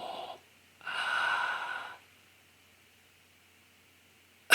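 A long exhaled breath released while chanting Hum in mantra meditation, a breathy rush of air lasting about a second after a short earlier breath, then quiet with a brief sharp sound at the end.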